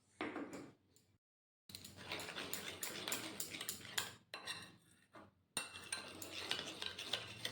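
A spoon scrapes and clatters around a bowl, mixing a paste of turmeric, salt, Kashmiri chili powder and a little water for hilsa paturi. The stirring is close and rhythmic, with a few brief pauses.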